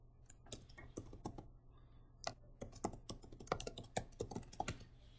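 Fingers typing on a computer keyboard, quick irregular clacking keystrokes close by, in short bursts with small gaps, quiet and with no one speaking.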